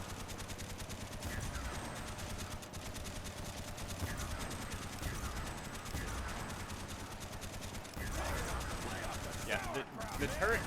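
A turret keeps firing in Call of Duty Zombies, a steady stream of rapid shots under busy game noise, with a player's voice talking over the gunfire.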